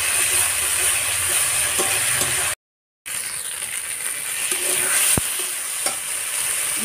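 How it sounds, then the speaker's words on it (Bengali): Ground chili paste sizzles as it is stir-fried in a pan with cumin paste, a continuous close hiss broken by scraping stirs and one brief silent gap. "লঙ্কা বাটা, ভালো করে কষতে হবে।"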